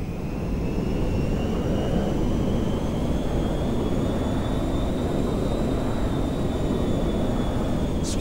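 A cargo jet comes in to land at McKenzie Field in GTA V Online with a steady, loud roar of jet engines. A faint rising whine sits above the rumble throughout.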